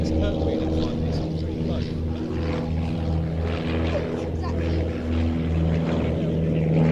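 A propeller aircraft flies at an air show, its steady drone holding throughout with strong tonal harmonics, continuous and fairly loud, with a voice talking over it.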